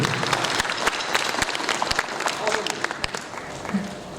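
Audience applause at a music event, a steady wash of many hands clapping throughout, fairly close and full.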